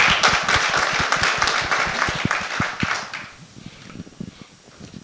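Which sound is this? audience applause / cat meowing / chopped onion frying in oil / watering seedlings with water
audience applause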